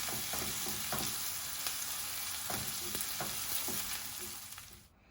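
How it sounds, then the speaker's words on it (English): Onions sauté in oil in a pan with a steady, dense sizzle, broken by occasional light taps of a utensil stirring, before the sound fades out at the end. "continue to saute this for about another 5 minutes and allow it to cook"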